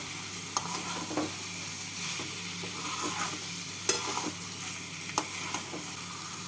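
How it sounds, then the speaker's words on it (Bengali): Fried potatoes and pointed gourd being stirred with spices in a pan, giving a steady sizzle with scraping strokes of a spatula at irregular intervals, close and moderately loud, with no voices. "এবার ভেজে রাখা আলু আর পটলগুলো দিয়ে দিলাম আলু পটল দিয়ে মশলার সাথে নাড়াচাড়া করে নেবো"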